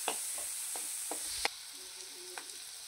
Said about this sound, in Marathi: कांदा चांगला गुलाबी रंगावर परतून घ्यायचा।